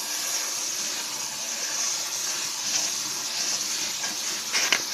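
Running tap water pours over green beans held in a colander, a steady close hissing rush lasting throughout with slight swells and a small splash near the end.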